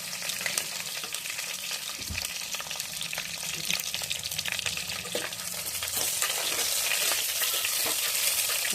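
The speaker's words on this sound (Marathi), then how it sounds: "वांगी छान हलवून घ्या." Salted stuffed brinjals (vangi) are stirred in a clay pot with a little water: continuous close sizzling and frying under irregular scraping and stirring knocks.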